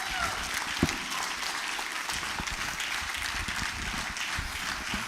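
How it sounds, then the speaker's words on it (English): An audience at a regional investment forum applauds a regional minister in steady, continuous clapping that holds at an even level throughout. "Please, let's clap for him."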